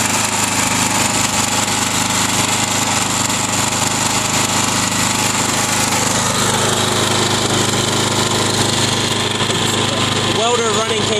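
A welder-generator with electric start runs nearby, its loud, steady engine drone filling the whole stretch with little change, while voices are faintly heard over it.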